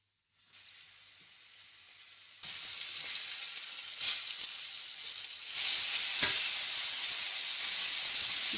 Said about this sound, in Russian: Наливаю на сковороду масло и обжариваю ее с обеих сторон до готовности.